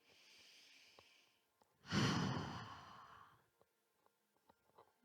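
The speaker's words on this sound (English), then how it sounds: "And we will finish with 3 hot breaths." A single long, deep exhaled breath during a yoga breathing exercise, loud and close, rising sharply then trailing off over about two seconds, followed by faint small clicks and near silence.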